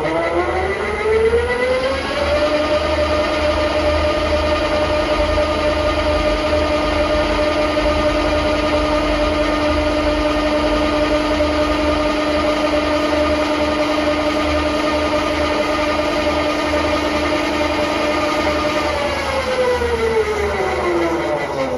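A milling machine runs steadily for about twenty seconds, drilling brass hornblocks for a model locomotive build. A constant motor whine rises at the start and falls away at the end, with no voices.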